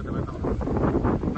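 Gusty outdoor wind buffets the microphone with a steady low rumble, close and continuous beneath someone talking, on a breezy spot near rocks.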